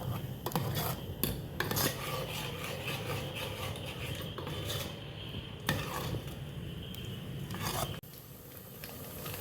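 Spice masala is sautéed in oil in a pan, producing a continuous close scraping stir with a sizzling hiss and occasional sharper knocks of the utensil against the pan.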